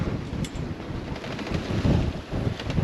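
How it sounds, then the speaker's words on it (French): Wind buffets a sailboat beating close-hauled between Greek islands while breaking waves wash and hiss around the hull, a steady loud rushing with no voices. "De temps en temps, il y a des vagues déferlantes qui arrivent, une série."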